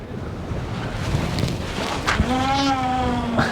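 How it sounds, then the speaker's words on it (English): Wind buffeting a microphone on a Bristol Channel beach in South Wales, a loud rumbling gust with a brief faint tonal whistle near the end, no speech. "It's nice and windy."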